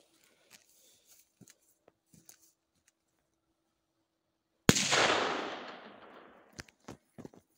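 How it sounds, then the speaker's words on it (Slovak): A single loud, close firecracker blast set off in a hole, a sharp bang followed by a long fading rumble, with faint scattered pops and clicks before and after. "Takže máme tu poslednú jednu petardu dnešného dňa. Je cenová pietka. Idem si ju odpáliť do tej diery."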